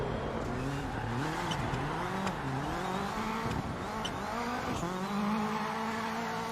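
Race car in a racing video game with a continuous engine drone and repeated rises in pitch as it accelerates through the gears, loud and steady throughout with no talking.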